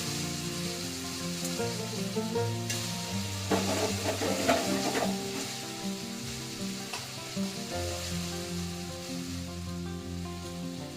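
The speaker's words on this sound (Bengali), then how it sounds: "তো চিংড়ি মাছটা ভাজা হোক" Prawns sizzle steadily in a hot pan, a continuous crackling fry with occasional stirring, heard close up with a slight swell in the middle.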